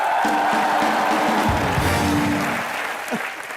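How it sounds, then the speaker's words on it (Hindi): A studio audience on the Colors TV comedy show Comedy Nights With Kapil bursts into sustained applause, with a low musical tone beneath that fades toward the end. "तालियां।"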